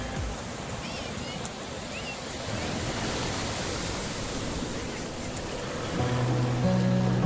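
Waves wash continuously onto Rajodi beach near Virar, a broad steady surf roar that grows a little louder near the end, with no one talking.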